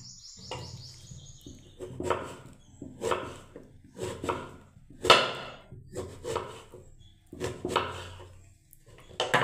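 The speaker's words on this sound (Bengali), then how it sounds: "এবারে বন্ধুরা আমি বেগুনটাকে কাটছি।" Knife chopping eggplant on a cutting board in a home kitchen: a series of sharp, close chops at an uneven, steady pace over a low background hum.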